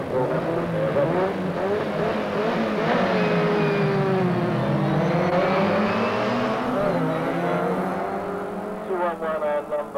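Mini 7 race cars at Lydden circuit in 1987, one a freshly rebuilt car, roar past with engines revving hard, the loud blended engine note swelling and shifting pitch for about ten seconds before fading.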